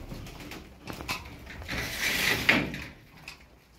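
Pigeons kept as game birds, a lot of twelve offered for sale, coo softly at close range in a short burst with some mechanical rattling in the background.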